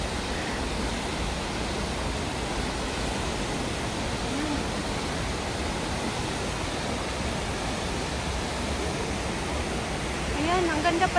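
Gorogataki Falls in Yamato, Kumamoto, heard up close as a loud, constant rush of falling water; a voice speaks briefly near the end.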